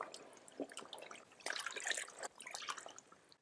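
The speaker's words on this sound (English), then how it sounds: "we're going to use our hands to mix and agitate the silk in the water." Hands agitate silk fabric in soapy water, producing quiet, close sloshing and dripping splashes in irregular bursts, with a busier stretch in the middle.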